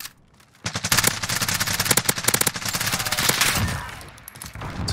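An MP7 submachine gun in Call of Duty fires a long rapid automatic burst after a brief quiet start, loud, close and steady in rhythm for several seconds.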